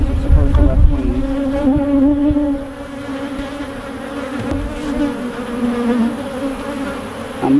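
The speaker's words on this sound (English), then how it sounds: "a decent population of worker bees" Worker bees buzz steadily in an opened beehive being split for new queens, a dense, continuous drone that stays close and loud throughout, with a few brief handling bumps.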